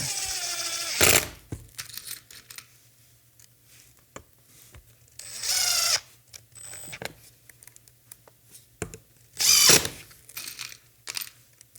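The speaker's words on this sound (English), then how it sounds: "then we're ready to start screwing this one back in" A power drill drives screws into a car bumper bracket in several short whirring bursts, loud and close, separated by quiet pauses with small clicks and handling noises.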